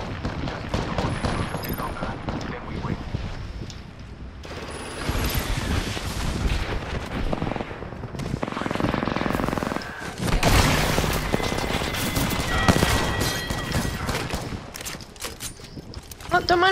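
Gunfire in an Apex Legends match, repeated bursts and single shots with occasional booms and mechanical clatter, a voice talking over parts of the fighting.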